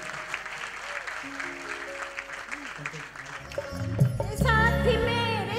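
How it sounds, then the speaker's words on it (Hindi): Audience applause at a singing event, steady clapping under talk before music starts and takes over near the end. "एक बार जोरदार तालियां दिल से"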